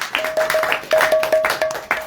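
Rhythmic hand clapping at an evening devotional program in Lisbon, about a dozen sharp claps in a steady beat, loud and close, with a faint sustained tone beneath.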